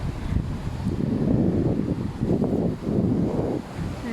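Ocean waves wash in and out in steady surges, mixed with wind buffeting the microphone.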